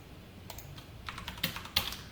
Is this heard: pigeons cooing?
no